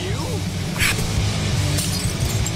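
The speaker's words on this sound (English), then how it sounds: "He's smashing bottles." Glass bottles shatter in a brief crash during a tense scene in the video game Life Is Strange: Before the Storm, heard over steady low background music and ambience.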